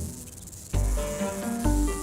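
Rattlesnake rattle buzzing, a steady dry high-pitched whir that surges loudly at about three-quarters of a second and swells again near the end, close and alone without talk.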